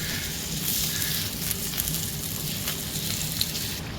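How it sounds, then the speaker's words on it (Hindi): Vegetables stir-frying in a pan for Schezwan fried rice, a continuous close hiss and crackle of sizzling oil with faint scraping stirs, no talk. "वेजिटेबल्स को थोड़ा सा स्टर करते हैं फॉर 2 मिनट्स"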